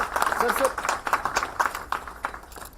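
Audience applause at an awards night, a short burst of uneven clapping with voices mixed in close by.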